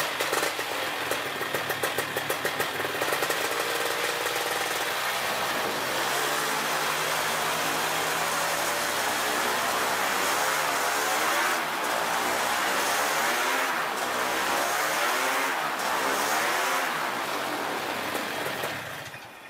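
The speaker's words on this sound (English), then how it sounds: "As you can see with this adjustment, the engine runs more smoothly." Polini THOR 250 DS paramotor engine running steadily after its low-speed carburetor screw was leaned slightly, a loud continuous drone with a gently wavering pitch that stays close and fills the whole stretch.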